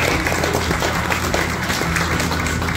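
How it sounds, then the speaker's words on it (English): Steady applause from a crowd at a county fair show, dense clapping that stays even throughout the short stretch, fairly loud and close. "give him a nice round of applause here"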